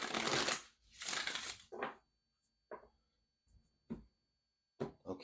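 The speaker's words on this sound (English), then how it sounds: "Let's get one more good shuffle" Several bursts of tarot card shuffling: two long riffles up front, then a string of short separate shuffles and taps spaced apart, close and fairly quiet.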